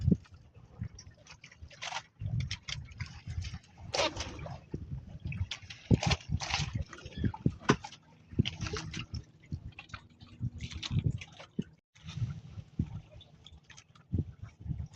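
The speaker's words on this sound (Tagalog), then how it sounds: "Medyo may alon-alon na siya." Small choppy sea waves lap and slosh against the hull of a fishing boat out checking crab traps, an irregular run of close wet splashes and knocks with no talking.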